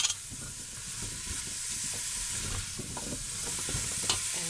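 Turkey stew ingredients seasoned with marjoram are stirred in a pot, giving a faint, continuous soft scraping and hissing sizzle with no voices.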